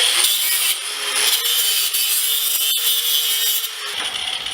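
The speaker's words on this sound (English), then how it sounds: "what we're going to do first is remove these nails. That's what the cutoff blade's for on here." A cutoff blade slices through the nails of a horseshoe, a steady, loud high-pitched whine with a grinding rasp that holds for several seconds without a break and then eases near the end.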